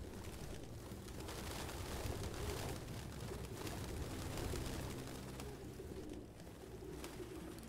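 Pigeons coo steadily inside Detroit: Become Human, a soft continuous murmur of bird calls set over a dense, rumbling ambient background with no speech.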